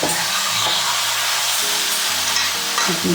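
Spinach chutney mixture (palakura pachadi) being stirred in a pan, with a steady frying sizzle and scraping spoon strokes throughout, close and fairly loud, no talking.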